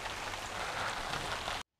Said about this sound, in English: the rain has started to come down